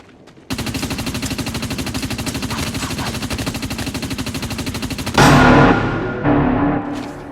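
Rapid continuous automatic gunfire in the sci-fi shooter Dust 514, a steady loud rattle lasting several seconds, then a sharp heavy blast with a ringing tail and a second softer burst.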